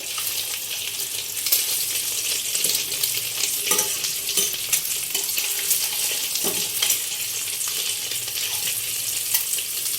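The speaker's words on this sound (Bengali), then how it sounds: "একটু উল্টে পাল্টে ভালোভাবে ভেজে নেবো লাল লাল করে।" Eggs frying in hot oil with chilli and turmeric powder, turned over in the pan for a Bengali steamed-egg dish: a steady, loud sizzle runs throughout, broken by occasional clinks and scrapes of a spatula, with no talking.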